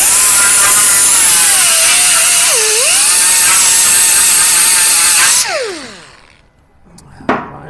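Loud, steady whine of a power grinder working metal on a 1966 Ford Mustang, pitch dipping briefly under load before the tool shuts off and spins down, followed by quiet shop noise.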